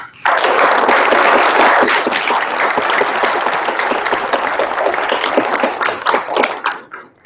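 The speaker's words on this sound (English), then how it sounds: "Please give him a warm round of applause." Audience applause welcoming a speaker on stage at a university talk, a loud, dense burst of clapping that holds steady for several seconds before tapering off.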